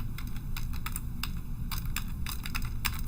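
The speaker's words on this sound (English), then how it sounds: "So I now type in the formula equals" Quick, uneven keystrokes on a computer keyboard while entering a spreadsheet formula, clicking close and steady for about three seconds with no talking.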